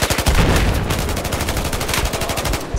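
Rapid automatic gunfire in a Battlefield 4 battle, dense bursts of shots crackling steadily and loudly throughout with no pauses.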